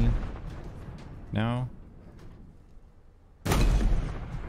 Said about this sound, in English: I'm trying to shoot the inside of that sniper tower there.